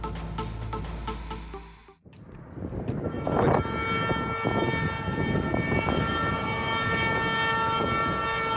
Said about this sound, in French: ce que tu vois là est un essai de freinage d'un train en marche